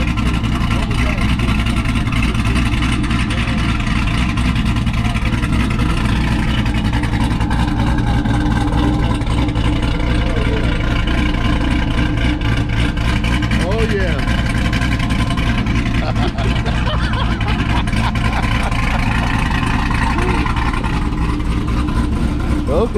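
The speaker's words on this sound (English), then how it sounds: "Yeah, that sounds like a brand new car." A cammed Chevrolet Corvette C5 V8 runs continuously with a loud, lumpy rumble, rising and falling slightly, with people talking over it now and then.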